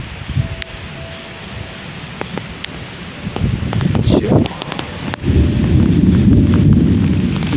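Strong wind roars and buffets the microphone in hilly countryside during a storm, with a rumble of thunder and rustling; the noise swells louder in the second half.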